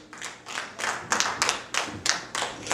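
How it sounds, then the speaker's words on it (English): Congregation at a church service clapping hands in a steady rhythmic beat, roughly ten claps, growing slightly louder and more unified, with no talking over them. "You ought to clap your hands right there."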